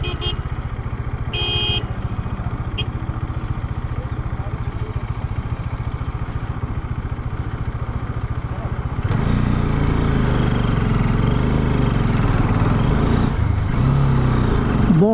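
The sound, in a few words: motorcycle riding on road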